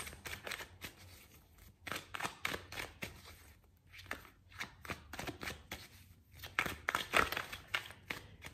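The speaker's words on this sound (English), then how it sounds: "So let's shuffle some cards." Tarot cards are shuffled by hand in a quiet room, producing repeated soft riffling and slapping bursts in an irregular rhythm with no talk.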